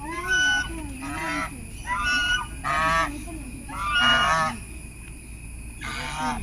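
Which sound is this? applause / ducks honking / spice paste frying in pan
ducks honking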